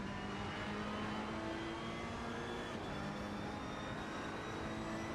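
A Ferrari race car engine in the Assetto Corsa Competizione racing game drones at a steady high pitch with a constant, loud tone and no voices.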